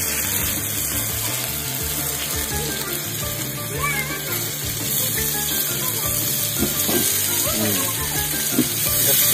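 Potatoes and onions frying in mustard oil with cumin and chilli at an outdoor village picnic, a loud, steady sizzle running throughout with scattered clatters of stirring and faint voices in the background.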